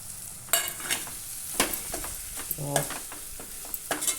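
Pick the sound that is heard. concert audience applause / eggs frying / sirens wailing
eggs frying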